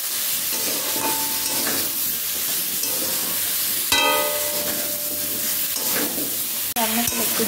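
Salted greens with ground coriander being stirred in a frying pan, heard as a loud, steady, close sizzle with scraping stirring strokes throughout and a few sharper clanks of the utensil against the pan.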